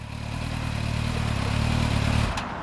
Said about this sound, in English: Luciano, that's a 4-stroke sounding 2-stroke.